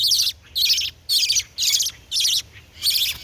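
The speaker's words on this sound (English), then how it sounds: "Oh man, that's a different bird." A garden bird calls in five or six bright, high chirping bursts spaced evenly about half a second apart, loud and close against a quiet low background hum, with no voices.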